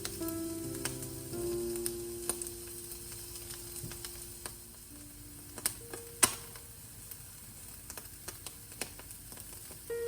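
Soya meat grilling in a hot pan, pieces spread flat so each touches the surface, giving a quiet, steady sizzle broken by scattered faint ticks and small pops.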